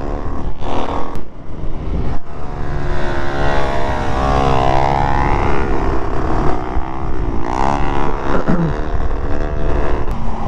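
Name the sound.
supermoto motorcycle doing a burnout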